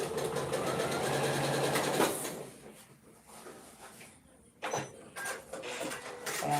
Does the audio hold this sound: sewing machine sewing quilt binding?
yes